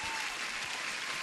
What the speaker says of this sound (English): Applause for you guys.